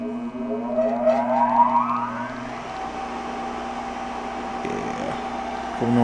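An industrial sewing machine for motorcycle seats, with a big flywheel, switches on and its motor spins up with a rising whine, then settles into a steady, loud electric hum, with no talk.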